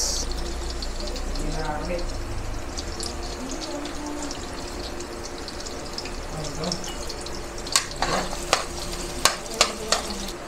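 Garlic and onion sauté in a hot pan for pork adobo, a steady low sizzle and frying hiss running throughout, with a few sharp clinks of a utensil against the pan near the end.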